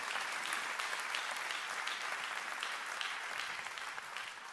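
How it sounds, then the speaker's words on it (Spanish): Steady, dense applause from a church congregation at a Spanish-language worship service, filling the whole moment without a break and tapering slightly at the end. "dele un aplauso al Señor por eso"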